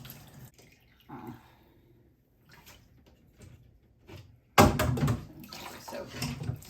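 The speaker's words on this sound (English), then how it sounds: "We're gonna rinse this a couple times." Water splashing and pouring as a hand-spun 4-ply yarn hank is rinsed, with soft drips and sloshing at first, then a loud, steady rush of running water close by.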